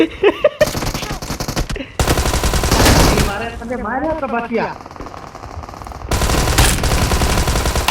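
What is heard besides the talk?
gunfire in a video game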